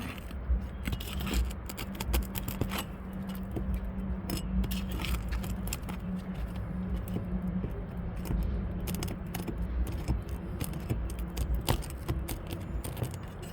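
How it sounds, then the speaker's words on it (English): Roof shingles being worked as a nail fastener is pried and pulled free, giving scattered scraping, clinking and ratcheting clicks over a steady low rumble, close and fairly quiet, with no talking. "Just trying to get this fastener out on the above one."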